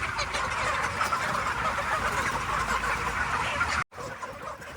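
Dense, continuous clucking of many chickens inside a poultry house, a loud steady flock murmur that cuts out abruptly near the end.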